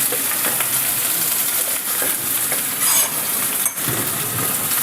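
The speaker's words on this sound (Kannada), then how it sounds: "ಕರ್ಬೇವು ಸಿಡಿಯುತ್ತೆ" Curry leaves, onion, chillies and cumin sputtering and sizzling loudly in hot oil in a pan, a dense continuous frying hiss with occasional stirring scrapes and clinks, close up and without speech.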